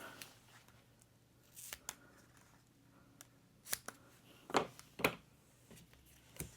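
Adhesive tape pulled and handled during card making, with faint crackles, soft rustles and a couple of sharper pulls and snaps nearby, sparse and quiet, with no speech.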